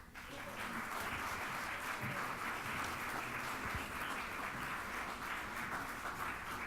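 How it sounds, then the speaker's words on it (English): Applause from the audience at a mayoral candidate forum: a steady wash of clapping, fairly quiet and distant-sounding, sustained evenly throughout without any talking over it. "Please help me give a big round of applause to Mr. Fioretti."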